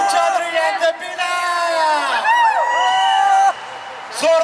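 A live crowd at a fan meet-up for TV couple Gurmeet Chaudhary and Debina whoops and yells in loud, sustained cheering, with shrill whistles and shouts layered together, dipping briefly near the end before rising again.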